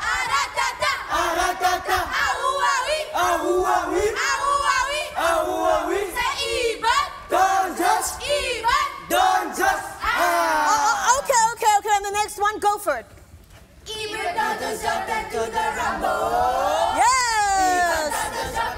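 A group of school students loudly chanting and singing a rhythmic combo cheer in unison, energetic crowd voices with shouted accents throughout, a brief pause near the end before the chant resumes.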